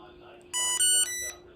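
A Tandem t:slim insulin pump gives a short sequence of bright electronic beeps, three tones in a row, close and clear over a faint background hum.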